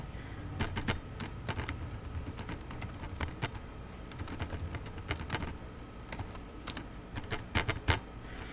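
Someone typing on a computer keyboard, irregular bursts of sharp, close keystroke clicks with short pauses between runs, and no voices.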